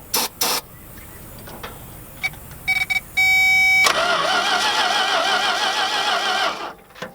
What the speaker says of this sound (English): I'm going to make it run off of the starting fluid just until it can pick up some gas from the fuel pump